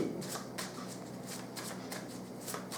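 Tarot cards are shuffled by hand in quick, papery riffling bursts, several soft rapid flutters in a row, close and quiet with no talk.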